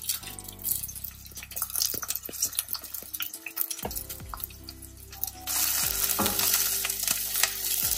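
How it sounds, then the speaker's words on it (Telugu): Onions frying in a pan for a homemade biryani give a steady sizzle with clattering stirring and utensil knocks, a brief quieter gap midway, then a louder, denser crackle toward the end. "ఫస్ట్ మనం ఆనియన్స్ని ఫ్రై చేసుకుంటాం కదా, ఫ్రైడ్ ఆనియన్స్ లాగా."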